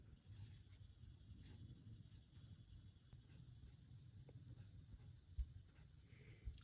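Pen or pencil scratching steadily across paper as a cardigan design is sketched, a quiet, continuous scraping with brief strokes and pauses, close by and without speech.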